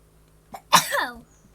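A single close, sharp sneeze sounds after a faint intake of breath, then trails off quickly in an otherwise quiet setting.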